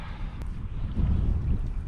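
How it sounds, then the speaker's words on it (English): Strong wind buffets a microphone out on a frozen lake during winter fishing, a steady low rumbling roar that swells and gusts, loud and continuous with no talking. "It is windy as heck right now."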